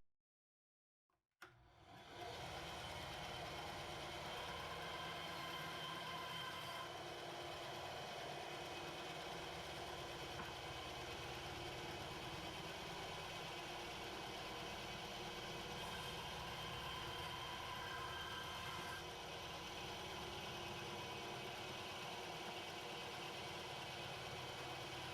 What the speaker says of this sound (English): I'm going to cut it up on the bandsaw.